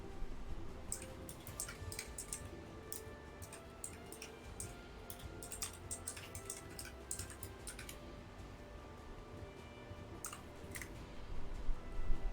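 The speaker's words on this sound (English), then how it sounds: "Trying to minimize the input from my extremely clicky keyboard." Extremely clicky computer keyboard being typed on, irregular bursts of sharp key clicks over a low background hum, fairly faint.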